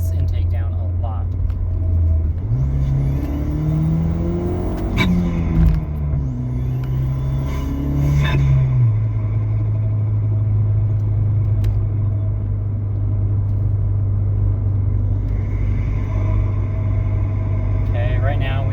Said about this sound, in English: Everyone keeps saying this is loud intake